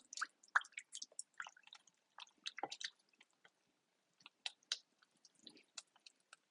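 Silicone spatula mixing flour into a steamed dough mixture for dumplings, producing soft, wet squishing and sticky tapping sounds in irregular bursts with short pauses, close and quiet, no talking.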